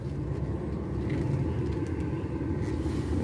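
A heavy DAF XF 530 truck engine rumbles steadily as the truck accelerates, a deep continuous drone from close by with no voices.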